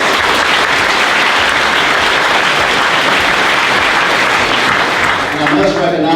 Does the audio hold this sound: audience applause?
yes